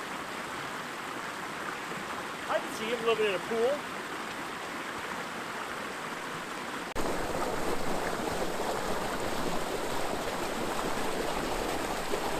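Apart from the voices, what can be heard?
water flowing in Chiquito Creek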